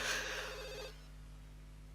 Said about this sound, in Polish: Strasznie długo w ogóle w tych Simsach telefony dzwonią